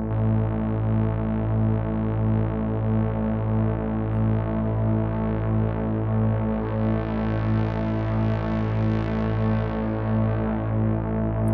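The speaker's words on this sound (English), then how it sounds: "as you can hear we have a really pleasing unison phasing effect" A thick, droning Endorphin.es synthesizer tone with a unison phasing effect holds steady with a slowly sweeping, shimmering phase movement, loud and continuous throughout.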